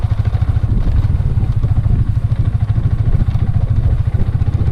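A motorcycle engine runs close by on a muddy road with a steady, rough chugging that sputters unevenly throughout, loud and with no voices.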